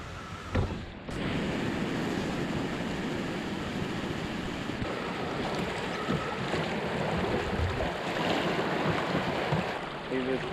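Fast-flowing river water near Cockermouth rushes in a continuous broadband roar, close and steady after a brief knock at the start, with no clear voices over it.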